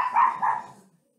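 Dogs shut out behind a door, heard as two short yelping barks in quick succession with a whining tail that fades into silence.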